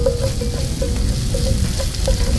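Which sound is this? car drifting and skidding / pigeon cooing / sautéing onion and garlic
sautéing onion and garlic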